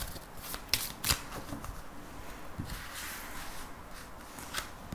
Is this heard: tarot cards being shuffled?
yes